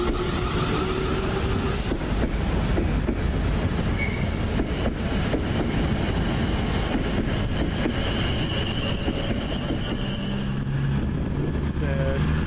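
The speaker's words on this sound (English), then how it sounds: "That's 444006 leaving with the delayed 1543 Poole Waterloo service." Class 444 unit 444006 pulls out of Basingstoke station on a delayed Poole to Waterloo service, a loud rumbling roll of wheels with clattering rail joints, a brief high squeal early on and tones rising as it gathers pace, voices faintly underneath.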